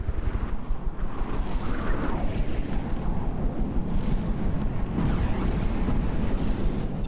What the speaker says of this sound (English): Still got some missiles firing off down here by the looks of it